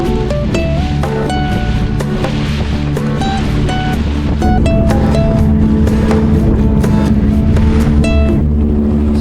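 Loud boat crossing the sea toward Pulau Oar in Ujung Kulon, a steady engine drone with tonal harmonics over constant wash of waves, close and continuous with no pauses.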